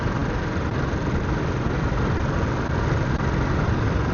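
Motorcycle engine while riding along the Kakarbhitta–Birtamod road, a steady continuous drone with heavy wind rush, constant and close throughout with no talk.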